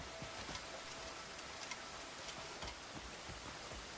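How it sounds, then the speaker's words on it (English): Rain falls in the Crimson Desert video game, a faint, steady patter of drops on surfaces with a soft hiss, continuous and even, no voices over it. "You got the rain, you got the fog, the lighting flashes."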